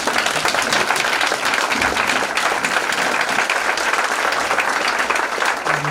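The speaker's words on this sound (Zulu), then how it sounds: "ngizocela ibandla lonke lisukume libashayele ihlombe amen" A church congregation at a Good Friday communion service stands and applauds, dense continuous clapping filling the hall at steady loudness throughout, with no talk over it.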